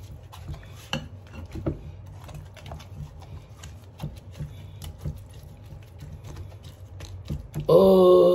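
Food being mixed in a bowl for fried catfish with spinach, giving soft repeated scraping and light clinks of a utensil against the bowl, close and fairly quiet, ending in a brief louder tonal burst.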